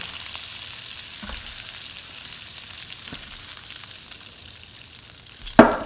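Pork tenderloin medallions frying in a skillet, a soft continuous sizzle with a few faint clicks, ending in a louder scrape as the pork is lifted out.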